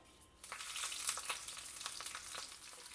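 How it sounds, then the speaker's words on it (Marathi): Green chilies fry in hot oil in a wok for Davangere dosa chutney, a dense crackling sizzle with sharp pops that rises after a quiet start and stays steady and close throughout. "मिरच्या व्यवस्थित आपण यामध्ये तळून घेतोय"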